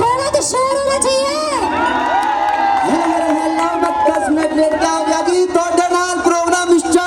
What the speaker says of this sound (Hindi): आप सब लोगों की तालियों में थोड़ा तो शोर होना चाहिए